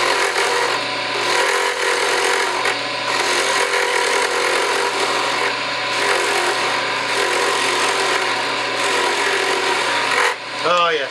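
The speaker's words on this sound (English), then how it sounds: "Let's see if we can do a little skew work here." A skew chisel cuts a wooden pen blank spinning on a lathe, giving a steady, continuous scraping rasp that holds close and loud with little change throughout before breaking off at the very end.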